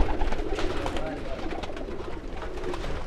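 Pigeons coo in a loft fitted with wooden perches, a dense, continuous murmur of low calls and rustling from several birds nearby, with someone talking over it.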